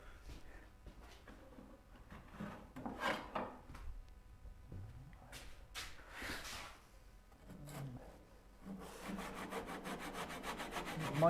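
Hand saw cutting a wooden stop cut on a Moxon vise, with irregular rasping strokes and pauses, then a faster, steadier run of sawing near the end, close and moderately loud, with no voices.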